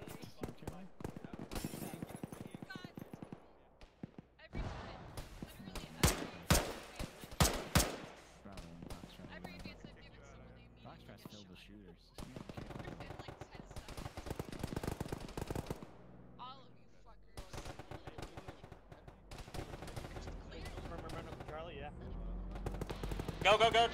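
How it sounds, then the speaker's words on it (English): Bursts of military gunfire in Arma crackle throughout, near and far, with sharp volleys and scattered shots mixed under radio-style talk. "East, northeast, something's shooting at us."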